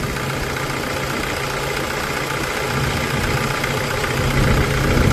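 A 2009 Toyota Kijang Innova G manual diesel engine idles steadily nearby, with a continuous low rumble and a faint knocking rhythm that grows slightly louder toward the end, with no voices.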